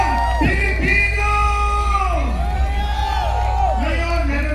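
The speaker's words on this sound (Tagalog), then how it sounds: "Palakpak na may kasama sigawan" A Filipino crowd at a public rally yells, whoops and cheers together, loud and close, with overlapping voices rising and falling throughout; clapping is not clearly picked out.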